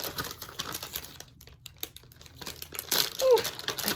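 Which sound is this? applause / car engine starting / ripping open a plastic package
ripping open a plastic package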